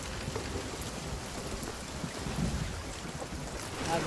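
Steady rain pours on a sailing ship at sea in the pirate video game Sea of Thieves, a continuous dense hiss of drops with faint wind and creaking beneath, no talk.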